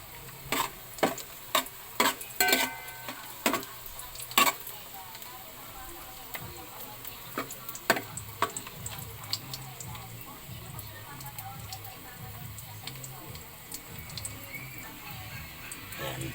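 Garlic frying in a pan, a steady low sizzle broken by sharp, irregular clicks and scrapes of a utensil stirring against the metal, fairly quiet and close throughout.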